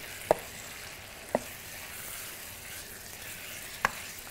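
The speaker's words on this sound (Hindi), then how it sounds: "इसके साथ हमने चिकन ऐड कर देना हड्डी वाली और इसको करना है मिक्स" Bone-in chicken fries in a pan for black pepper chicken, under a steady soft sizzle, while three sharp spoon taps against the pan mark the stirring.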